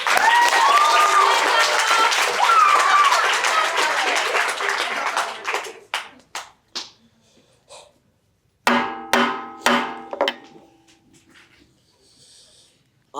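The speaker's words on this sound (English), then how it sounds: "Give a round of applause." An audience at a debate league summer camp showcase claps loudly for several seconds, then the applause thins out into scattered individual claps and a few stray noises.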